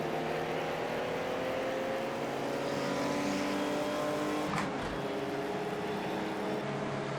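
Mercedes-Benz 300SL race car engine at Oulton Park in Project Cars 2, a loud, sustained high-revving roar with shifting pitch, steady throughout and free of talk.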